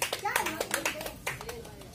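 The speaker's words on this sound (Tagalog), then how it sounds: "Bigyan natin ng milyon-milyon palakpak." An audience claps at a product presentation, a burst of close, rapid clapping from many hands with cheering and voices mixed in throughout the short stretch.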